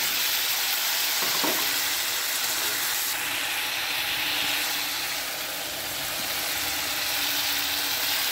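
Potato pieces dropped into hot oil with whole cumin seeds crackle into a steady, close frying sizzle that holds throughout, with a brief clatter near the start and no voices.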